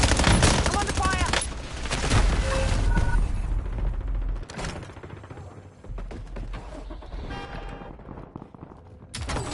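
Heavy, loud gunfire in Call of Duty Warzone crackles in fast overlapping bursts, strongest at the start and easing into scattered shots, with in-game voice lines heard under the shooting.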